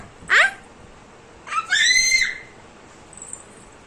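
Two sharp, high-pitched screams a moment apart, the second longer and wavering, with a faint distant squeal afterward.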